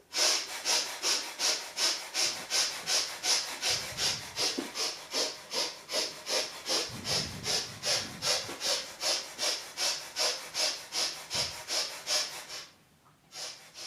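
Breath of fire during a Kundalini yoga session: rapid, rhythmic, forceful nasal breaths about two per second, steady and close, before easing off at the end.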